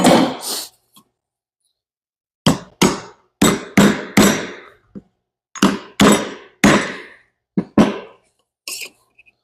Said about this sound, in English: just tapping it in with a hammer this time.